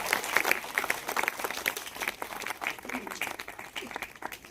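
An audience at an award ceremony breaks into steady, sustained applause that fills the whole clip, with a voice briefly heard over the clapping.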